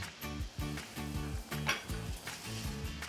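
Garlic and softened onions sizzle in olive oil in a frying pan, a steady hiss with faint clinks, over a rhythmic low background.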